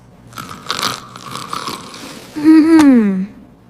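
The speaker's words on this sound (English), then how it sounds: "I am eating breakfast." Crunchy chewing over breakfast: a few loud, close bites and crunches, followed by a short voiced, gliding hum.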